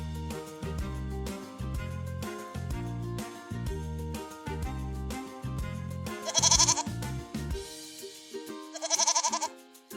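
Two short goat bleats cut through a bouncy children's farm-animal counting tune. The quavering cries come several seconds apart, and the music keeps playing beneath them.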